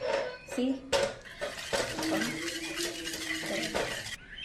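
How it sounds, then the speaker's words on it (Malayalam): A whisk beaten through thick vegetable curry in a metal pot, with rapid clinking and scraping strokes against the sides, fairly close and continuous, plus a few metallic knocks at the start. "ഈ വിസ്ക് വെച്ചിട്ട് അടിക്കും."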